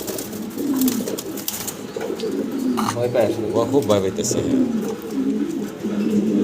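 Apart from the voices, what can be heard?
blue barless pigeon pair cooing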